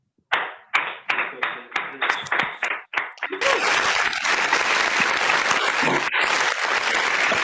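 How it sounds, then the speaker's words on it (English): Applause for speakers at an international president's visit in Maputo: a few separate claps at first, then thickening into a sustained, dense round of clapping from an online audience that has just been unmuted. "give a round of applause for every speaker that was here on the stage today"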